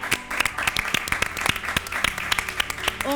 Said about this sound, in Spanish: Un aplauso, hermoso.